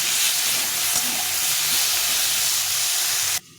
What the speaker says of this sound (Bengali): আর একটু হলুদ গুঁড়ো দিয়ে এটাকে ভালো করে ভেজে নিতে হবে